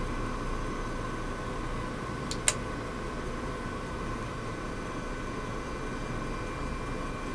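An H225 helicopter hovers in Microsoft Flight Simulator 2024, giving a steady, even rotor and turbine drone with a broad whooshing hiss, interrupted only by a brief faint click partway through.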